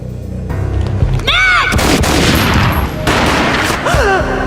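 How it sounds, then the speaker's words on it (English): Gunfire in the Max Payne video game: a few heavy booming blasts burst through dense rumbling noise, mixed with swooping slow-motion whooshes and tonal sweeps. "A gunshot boomed and she fell down in slow motion."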